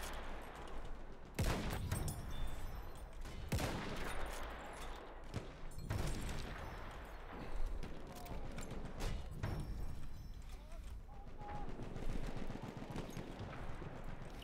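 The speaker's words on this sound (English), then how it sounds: "They're gonna start shooting us in the back from ENF." Heavy battlefield gunfire in Battlefield 1 at Fao Fortress, with sharp rifle shots and bursts of automatic fire cracking irregularly through a constant din of distant combat.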